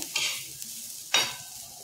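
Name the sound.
roasted jawla (dried shrimp) being stir-fried in pan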